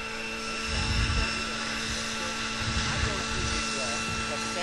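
An F3C competition radio-controlled model helicopter flies nearby, its rotor and engine giving a steady whining drone with pulsing low thumps as it moves during a scheduled manoeuvre.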